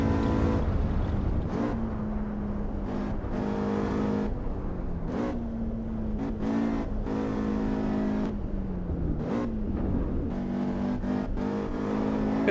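F1 race car engine in the video game Formula 1 2012, a high, sustained whine whose pitch climbs and drops with gear shifts and repeated revving throughout, loud and continuous.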